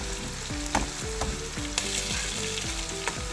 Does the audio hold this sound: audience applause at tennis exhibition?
no